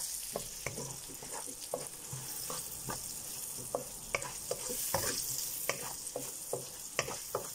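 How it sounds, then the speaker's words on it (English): Onions frying in a pan for a leftovers chilli, with a steady sizzle under repeated sharp scrapes and clinks of a utensil stirring against the pan, fairly close and fairly loud, no talking. "And then I'm going to add my onions."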